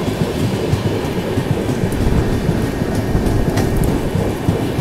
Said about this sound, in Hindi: राजधानी एक्सप्रेस के साथ पैरेलल रन पहली बार देख रहा हूं मैं।